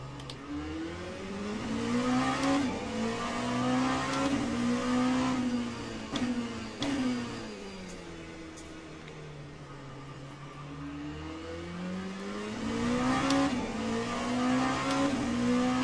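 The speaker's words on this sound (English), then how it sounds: "I was trying to start the car, but I wasn't tabbed into the game." A race car engine in the Le Mans Ultimate sim at Fuji rises and falls through repeated revs and gear changes, a steady mid-pitched whine swelling and easing over about fifteen seconds with no voices.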